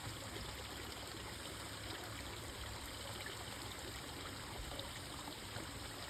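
Water from a hose pours steadily into a small man-made basin at Lodge Sugisawa summer camp, a continuous close splashing rush with no pauses and no voices.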